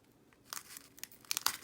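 A sealed Pokémon TCG booster pack being wrestled open: a sequence of sharp, crinkly foil tears and crunches that start faint and grow louder and denser toward the end, heard up close with no voice over them.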